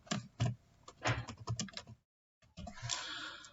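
Keys clatter on a computer keyboard as a command is typed into a Word macro name field, a quick run of close, crisp taps broken by a brief pause before a denser burst of typing resumes.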